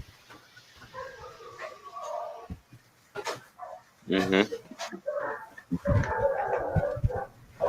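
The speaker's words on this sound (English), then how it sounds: "Oh, you got all those dogs, man." Several dogs bark and whimper at intervals in the background while someone talks over them, the barks scattered through the exchange rather than dominating it.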